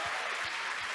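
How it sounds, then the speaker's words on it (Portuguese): A church congregation claps for its pastors, a brief wash of steady applause heard at moderate distance with no voices on top. "eu queria que a gente desse uma salva de palmas aos nossos pastores queridos"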